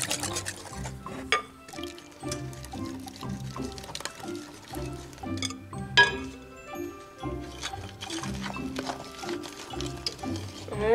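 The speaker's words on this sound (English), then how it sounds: "We'll whisk all of this together and then add it over in the bowl with the dry ingredients." Wet ingredients with vanilla are whisked in a bowl for a poppyseed bread batter, giving a moderately loud, continuous, sloshing liquid churn with quick rhythmic clinks and taps of the whisk against the bowl.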